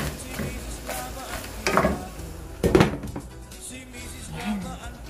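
Shrimp frying dry in a pan, a close sizzle under several loud scraping stirs of a utensil against the metal, with brief faint voice sounds.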